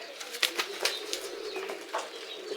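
A plump black pigeon released from the hand beats its wings in a quick flurry of soft flaps, fairly close and with no talking.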